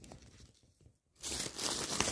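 A well-packed parcel is cut and torn open with scissors, giving rustling crinkly plastic, a brief pause, then louder tearing and crunching of packaging close by.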